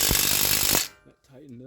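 A socket wrench with a 21 mm socket rapidly ratchets on a crank sensor, a loud close burst of clicking lasting under a second before cutting off, followed by a brief voice.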